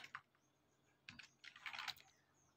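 Code typed on a computer keyboard, faint bursts of quick key clicks with short pauses between, closing in a denser flurry of keystrokes; nobody speaks.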